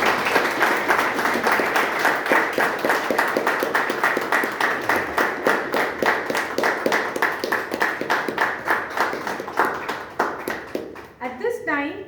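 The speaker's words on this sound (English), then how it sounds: "Can we give a big round of applause to our" A Toastmasters club meeting audience applauds steadily, with dense, continuous clapping from many hands that holds for several seconds before thinning out near the end.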